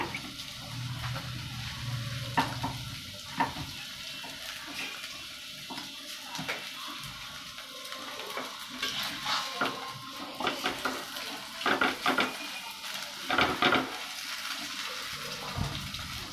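Chhana paratha fries in oil on a hot griddle, giving a steady, continuous sizzle and hiss with occasional scrapes and clinks of a utensil against the pan.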